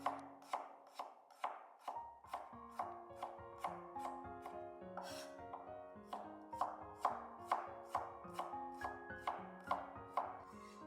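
A knife slices fresh ginger into thin, even pieces on a cutting board. The crisp chops fall in a steady, quick rhythm of about two per second and sound close, with soft music playing underneath.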